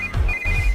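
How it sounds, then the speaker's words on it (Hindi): A telephone rings with a steady electronic ringtone, loud and close, one continuous tone broken by a brief gap, with no voices. "इस वक्त दीदी का फोन।"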